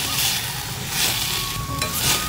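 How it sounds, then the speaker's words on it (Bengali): Potatoes with chopped green chilies stirred in a hot pan, a loud close sizzle with rough scraping strokes swelling in rhythm over a couple of seconds. "আলুটা 1 থেকে 2 মিনিটের মতো ভালো করে নাড়াচাড়া করে নেব।"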